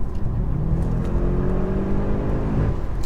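A 680 bhp Audi S8 with an 8-speed Tiptronic gearbox accelerating hard after a quick kick-down, a loud steady engine roar with rising tone heard from inside the car, no talking.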